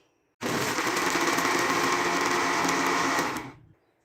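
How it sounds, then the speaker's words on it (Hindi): A blender runs on a peach milkshake with added ice cubes, starting abruptly and holding a loud, steady whir for about three seconds before winding down and stopping. "अब हम इसमें आइस क्यूब ऐड करेंगे और इसको हम दोबारा से अच्छी तरह से ब्लेंड करेंगे"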